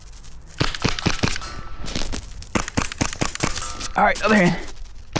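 A Novritsch SSP28 split slide airsoft Glock pistol fires a rapid string of sharp, snappy pops at close range, followed by someone speaking briefly near the end.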